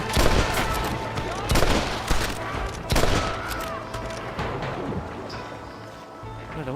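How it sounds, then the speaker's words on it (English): Springfield rifle shots in Red Dead Redemption, with several loud sharp cracks and their echoes spaced a second or so apart, mixed with other game sounds and a voice. "I really do only need 1 shot with the Springfield rifle"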